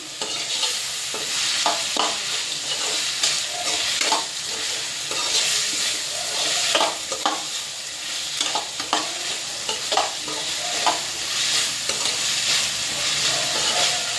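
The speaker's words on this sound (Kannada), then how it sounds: "ಈರುಳ್ಳಿ ಫ್ರೈ ಆಗಿದೆ" Onions frying in a pan give off a continuous close sizzle. Frequent stirring scrapes and clinks run through it, the level stays fairly even throughout, and no one speaks.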